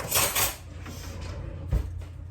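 Metal cutlery clatters and clinks as someone rummages through a kitchen utensil drawer for a big spoon while making meatloaf, with a busier rattle at first and a short knock later, close and moderately loud.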